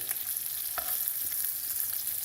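Guanciale fries in a pan with onions for pasta, giving a close, steady sizzle with light crackles and a few soft scrapes of stirring, and no voices.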